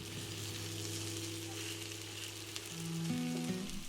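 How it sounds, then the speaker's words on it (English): Steak and broccoli stir fry sizzling in a pan as the sauce thickens: a continuous soft crackling hiss, fairly quiet and close, with a low background hum and no clear speech. "going to cook this for about 3 minutes to bring all the flavors together and to let the sauce thicken"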